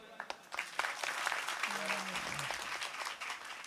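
An audience claps together during a comic kirtan, a Marathi devotional storytelling performance, with steady dense applause lasting several seconds, mixed with voices and a faint held musical tone.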